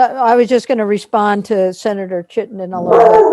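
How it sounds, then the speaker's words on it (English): Someone speaks at a remote government committee meeting, and a dog barks briefly and loudly right at the end, cutting over his voice. "Oh, that's my dog."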